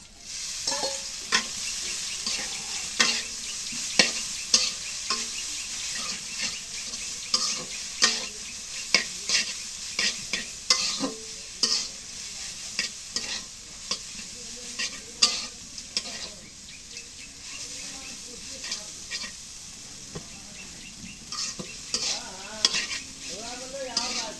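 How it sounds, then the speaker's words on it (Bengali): Jute greens sizzle softly in a hot pan with fried onion and garlic as a utensil scrapes and stirs in regular strokes, with occasional clinks against the metal. "এখন পেঁয়াজ রসুন ভাজা এখন শাকগুলো দিয়ে দিই"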